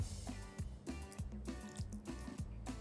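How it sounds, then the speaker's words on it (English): Melted butter poured into dora cake batter that also holds honey and vanilla extract, giving soft, close liquid drips and plops that repeat in a steady rhythm about every half second. "the last ingredient is melted butter"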